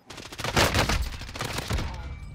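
Gunfire in the Warzone video game: several overlapping bursts of rapid shots from more than one weapon, fairly close and continuous across the whole moment, with no talk over it.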